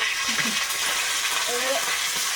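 Homegrown bay leaves, ginger and cumin hit hot oil, giving a steady close sizzle with a light stirring scrape, no talk over it.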